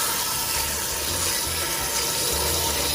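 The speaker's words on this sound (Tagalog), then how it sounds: "So, lagyan lang natin ng tubig ng kalabasa." Water pours steadily into a cooking pot holding squash pieces for suman kalabasa, a continuous close splashing and rushing with low gurgles, no voices.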